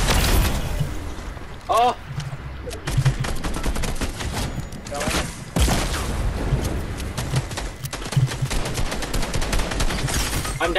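Video game combat: a grenade thrown and exploding amid bursts of rapid gunfire and repeated shots, loud and close, with a player shouting briefly over the action.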